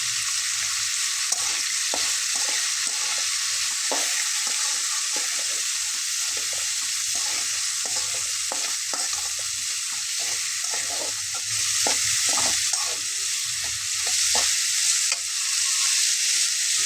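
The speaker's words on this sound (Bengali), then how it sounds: "আলুটা একটু ভালোভাবে ভাজা ভাজা করে নিয়েছি" Cubed potatoes fry in a pan with turmeric, their steady loud sizzle broken by frequent scraping stirs of a spatula against the pan throughout, with no voices.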